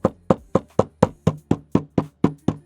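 Wall coping flashing on a masonry wall top being tapped down into place: eleven sharp, evenly spaced knocks, close and loud, with no talking.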